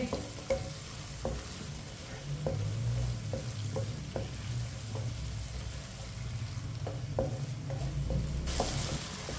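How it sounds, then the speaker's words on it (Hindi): Thick-cut onion pieces fry in a pan for a capsicum dish, sizzling steadily while a spoon clicks and scrapes against the metal in irregular stirring strokes, close and clear. "प्याज डाल लेंगे, अच्छी तरह मिक्स कर लेंगे।"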